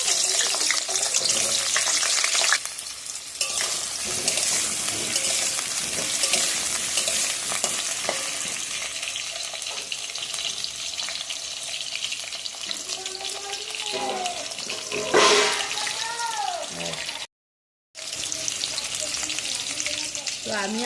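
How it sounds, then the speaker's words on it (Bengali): Potatoes frying in hot oil for a chicken curry, a steady dense sizzle with occasional stirring and faint water-like splashes, close and continuous, briefly cutting out near the end. "তেল গরম হয়ে গেছে। তো এবার আমি আলুগুলো ভেজে নেব।"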